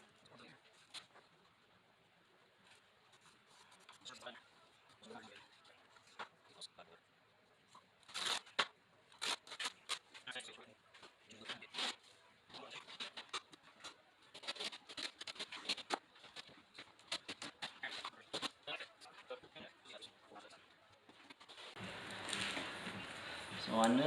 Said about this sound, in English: I'm going to cut it at 41 1/4, so I'll cut it at 40 7/8